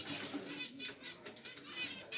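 Small finches flutter inside a netted cage, their wingbeats coming as soft, close, rapid bursts of rustling that repeat throughout with no talking.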